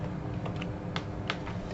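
Keystrokes on a computer keyboard while entering a tool search in GIS software, a handful of soft, separate taps in an irregular rhythm over a steady low background hum, close and quiet.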